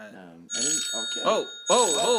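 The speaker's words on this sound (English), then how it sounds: "Wait, we're actually getting a phone call here." A telephone rings with an incoming call in short bursts of electronic tone, with gaps between them, loud and close, and no talk over it.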